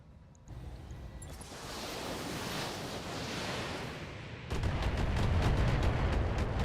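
An LRM missile barrage in the BattleTech video game rumbles as a continuous rushing roar, then swells into a louder string of rapid, thudding impacts near the end.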